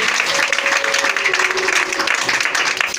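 A church congregation applauding during a morning service, steady dense clapping from many hands throughout, loud and close, with a few voices faintly mixed in.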